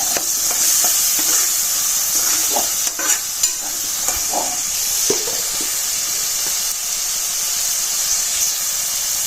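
Ginger and garlic paste fries in a pan for a rohu fish curry with aubergine and lentil dumplings, giving a steady loud sizzle and hiss, with scattered stirring scrapes and clicks throughout.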